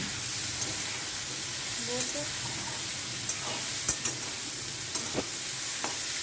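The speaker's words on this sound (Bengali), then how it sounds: "এগুলোকেও ভালো করে ভেজে নিতে হয়" Pumpkin greens and vegetables fry in oil with turmeric and salt, making a soft, continuous sizzle. Occasional stirring clicks are scattered through it and faint talk can be heard in the background.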